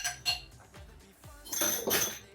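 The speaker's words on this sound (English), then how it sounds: "Take out my egg whites. Just froth it up a little bit. Just a little bit. Stir it up." Egg whites being frothed and stirred for fried rice, heard as light clinks and taps of a utensil against a bowl, followed by a louder, brushier whisking stretch near the end.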